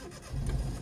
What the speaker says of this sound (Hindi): झटके से क्लच छोड़ा इसलिए इंजन बुझ गया।